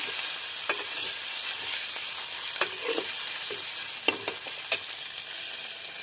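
Ginger, cumin and garlic paste stirred in a sizzling pan for a chicken liver dish: a soft, steady frying hiss with repeated short scraping and tapping strokes of a spoon, close by and without voices.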